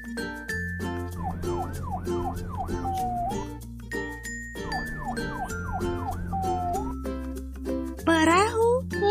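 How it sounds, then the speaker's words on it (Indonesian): A police car siren wails in repeated rising and falling sweeps, heard in two passes over background music, ending with a brief, sharper burst of sound. "Mobil polisi."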